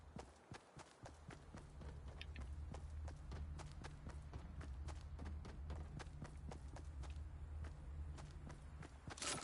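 Footsteps in the video game Fortnite, a rapid steady run of soft thuds repeating throughout over a low rumbling game background, with no voices.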